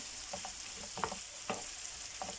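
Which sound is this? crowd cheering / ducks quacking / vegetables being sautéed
vegetables being sautéed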